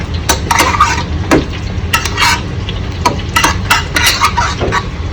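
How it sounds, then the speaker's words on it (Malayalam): Vegetables going into a chicken soup pot and being stirred, with a series of close clinks and scrapes of utensil on metal plus soft splashes over steady background noise, no talk. "നേരത്തെ എടുത്ത് വെച്ച വെജിറ്റബിൾ എല്ലാം നമുക്ക് ആഡ് ചെയ്യാം."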